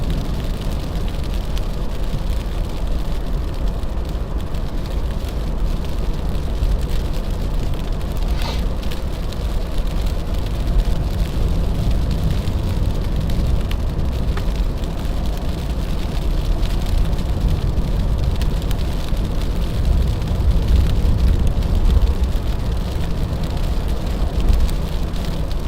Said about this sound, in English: it is just dumping sleet here, chat